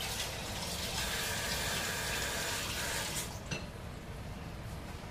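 Water pouring into a soup pot over meat for a Nigerian ofe owerri, a steady close gush of liquid that cuts off near the end, followed by quieter pot sounds.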